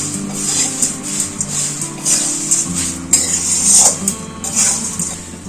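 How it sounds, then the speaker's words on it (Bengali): Flattened rice (chire) is dry-fried over low heat in a kadai, with a spatula repeatedly scraping and clinking against the metal pan in an uneven rhythm, close and fairly loud. "হালকা আঁচে চিড়েগুলোকে ভেজে নেব।"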